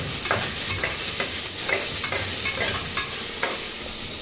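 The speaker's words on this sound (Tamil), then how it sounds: "நம்ம நறுக்கி வச்சுருந்த வெங்காயம் பூண்டு அப்புறம் பெருங்காயம் மூணையும் போட்டு நம்ம வந்து இது பண்ணிக்கலாம் நம்ம எண்ணெயிலேயும் நம்ம வதக்கிக்கலாம்" Chopped onion, garlic and asafoetida sauté in hot oil, crackling and sizzling while a spoon stirs and clinks against the pan in quick, close, loud repeated strokes.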